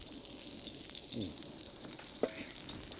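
Strips of seal fillet sizzle in a pan with beer, a steady close frying hiss broken by a soft stirring scrape and one brief clink, with no talk.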